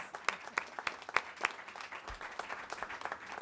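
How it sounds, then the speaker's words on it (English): An audience applauds a youth job-training program at a civic event, a scattered round of clapping with a few sharp, close individual claps standing out over the steady patter. "Give Lynn Rippey and Youth Build a round of applause."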